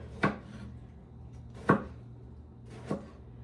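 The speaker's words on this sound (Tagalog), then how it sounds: "Ito po yung patula. Kasi wahiwain ko siya." Three separate knife cuts through sponge gourd (patola) on a board, each a crisp close thunk spaced about a second apart, with low room hum between and no talking.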